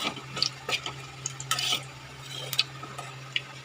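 Puti fish frying with a little spice in a pan, a low steady sizzle broken by scattered light scrapes and clinks of a spatula against the pan, fairly quiet and close, with no talking.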